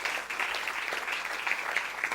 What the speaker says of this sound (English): So we should all be, why not we clap, such a great man is with us.